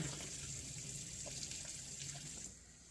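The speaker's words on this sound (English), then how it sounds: "I put cold water in there and just kind of cool it off with the cold water." Cold tap water runs steadily over drained cooked macaroni in a kitchen sink, a soft continuous gush and splash that stays fairly quiet and even from start to finish.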